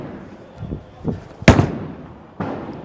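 A bowling ball, a Hammer Lethal Venom, rolls down a lane with a few low thuds, then crashes loudly into the pins in one sharp burst, followed by a second clatter shortly after.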